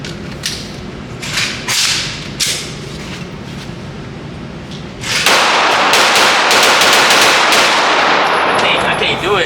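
Rapid gunfire at an outdoor shooting range, a fast string of sharp cracks fired in quick succession, loud and close, with occasional voices between bursts.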